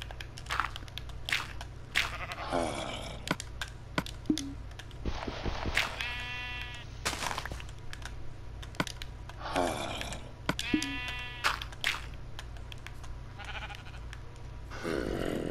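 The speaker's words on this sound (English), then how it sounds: "Sheep, you are kind of annoying." Sheep in the video game Minecraft bleat repeatedly, with several distinct wavering baas spaced a few seconds apart over quiet background game sounds and light clicking.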